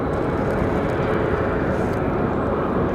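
Boeing 737 MAX 8 jet airliner at Raleigh Durham International Airport, its engines giving a loud, steady, broadband roar that holds evenly throughout without pause.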